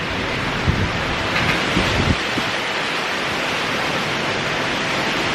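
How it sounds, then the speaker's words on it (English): Strong wind blowing outdoors, roaring steadily and loud across the whole span, buffeting the microphone with a few low gusty thumps near the start. "it's so loud, do you hear the wind?"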